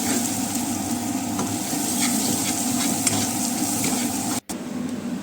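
Onions and green chillies fry in a pan for paneer bhurji, giving a loud, dense, steady sizzle with faint stirring and a brief dropout near the end.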